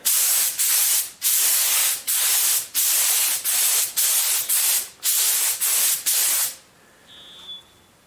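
Repeated short bursts of aerosol spray hiss in a steady rhythm, about a dozen loud close pulses, then quiet with a faint tone.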